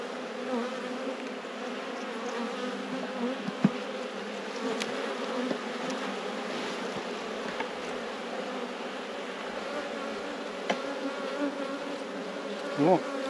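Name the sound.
honeybees buzzing during a beehive inspection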